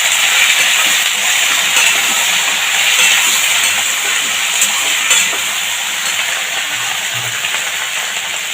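Sliced okra hits hot garlic-infused oil in a pan, giving a loud, steady sizzle and hiss that slowly eases over several seconds, with no talking.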